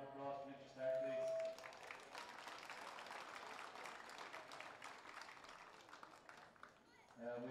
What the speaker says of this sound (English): So can I get a round of applause for Richard Stark, please?